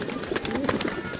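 A mix of pigeon breeds coo softly in a close, busy chorus, with overlapping low throaty calls.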